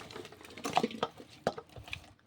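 Oil is stirred into a bowl of instant garlic avakaya pickle with a spoon, giving soft wet squelches and scattered clinks against the bowl in short irregular bursts, close and fairly quiet.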